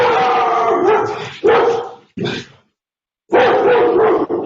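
Dogs bark loudly and repeatedly inside a home in rough, excited bursts, with a short quiet gap before the barking starts again; a voice may be faintly mixed in.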